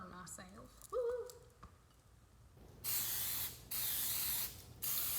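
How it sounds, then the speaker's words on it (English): Cooking spray hisses in three short bursts into a heated chaffle maker, each burst sharp and close, after a few quiet clicks and a bit of talk. "So I'm gonna spray it again"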